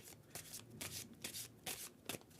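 A deck of tarot cards is shuffled close up in quick, crisp riffling bursts that repeat at an even rhythm, with no talking.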